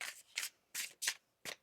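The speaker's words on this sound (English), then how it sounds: "One more shuffle." Tarot cards shuffled by hand, five quick crisp riffling bursts in an uneven rhythm with short pauses between, close and fairly soft, no voices.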